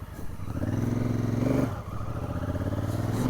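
A Honda Africa Twin CRF1000 rides off across hard, flat desert ground in Saudi Arabia, its engine droning steadily up close with a brief dip and recovery in revs partway through.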